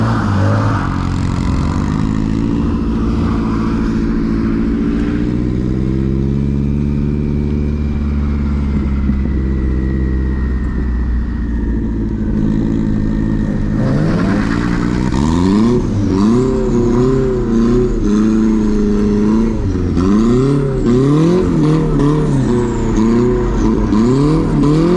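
A drift car's engine revs hard and continuously during tandem drifting, loud and close, with the pitch climbing and falling repeatedly and a sharper surge of rising revs in the second half.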